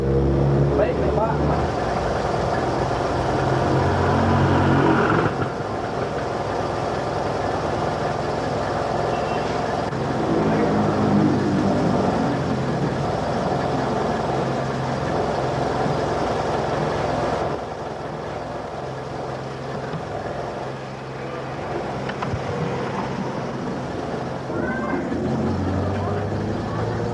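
A hot car engine running in a workshop, a continuous low mechanical hum with shifts in level partway through, while people talk over it.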